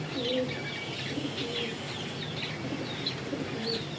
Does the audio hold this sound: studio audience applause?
no